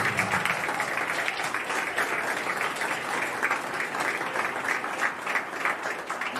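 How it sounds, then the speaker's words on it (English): An audience at a student leadership awards event gives a long round of applause for nominees and winners, steady rhythmic clapping filling the room evenly from start to finish, with no voices heard. "one final applause for all the nominees and winners of the 2022"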